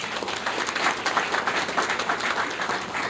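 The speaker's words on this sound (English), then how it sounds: "A round of applause to Raj." Audience at a tech media startup event applauds a team member, a sustained, even wash of many hands clapping at moderate loudness throughout.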